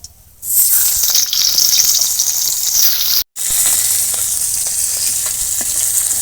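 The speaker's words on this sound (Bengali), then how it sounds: "বাকি মাছগুলোও এইভাবে ভেজে নেব" Pieces of hilsa fish frying in hot oil, a loud, dense, steady sizzle close by, broken by a brief silent gap partway through, then resuming at full strength; no one speaks.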